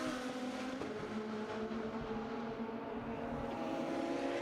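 Race cars run laps on the Circuit of the Americas track during a club racing session, a steady distant engine drone with shifting pitch under faint crowd ambience, no talk.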